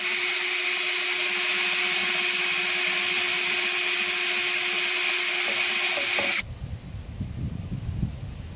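Power tool drilling out rivets from an RV running light on an Avion travel trailer, a loud continuous high whine for about six seconds that cuts off abruptly, leaving quieter handling noise.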